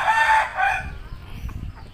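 A rooster crows loudly and close by in one strong call during the first second, then fades into low background rustling and faint farmyard noise.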